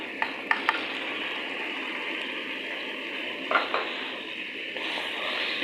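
Potatoes and cauliflower are stirred together in a pan over a constant frying sizzle, with a few sharp utensil clinks against the metal at the start and midway.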